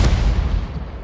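A single booming tank gun shot from a video game with a 105 leFH18B2 artillery tank, a loud deep blast that fades into a rumbling decay.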